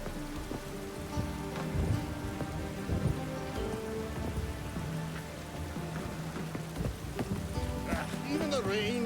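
Rain patters steadily on surfaces in The Witcher 3 video game, with horse hooves clip-clopping and scattered background movement and voices mixed in.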